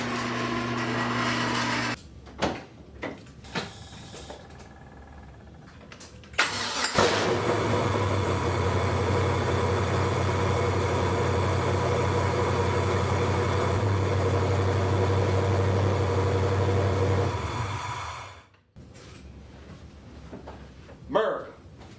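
An LS1 V8 swapped into a BMW E36, running with no exhaust on the headers, cranks, fires up and settles into a loud, steady idle for about ten seconds before shutting off, with brief talk around it.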